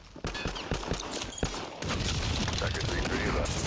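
Rapid bursts of gunfire from Call of Duty Modern Warfare 2 beta multiplayer crackle in quick succession, then give way to a dense, continuous roar of game action, loud and busy throughout.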